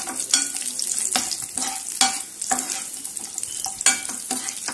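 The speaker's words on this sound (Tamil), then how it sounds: "இப்போ நம்ம வந்து முந்திரி திராட்சையை வறுத்து எடுத்துக்கலாம்" Cashews and raisins fry in melted ghee for kesari, a close, steady sizzle broken by scraping stirs of a spoon across the pan.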